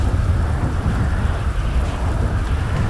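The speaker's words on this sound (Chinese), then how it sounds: "可是为什么这么暗又下个大雨？" Heavy rain pours steadily with a low thunder rumble beneath it in the GTA5 video game world, a dense and constant wash of noise that stays at an even level throughout.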